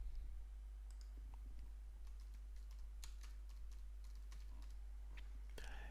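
Fast, faint clicking of keys on a computer keyboard as a menu name is typed, steady through the clip over a low electrical hum, with no speech.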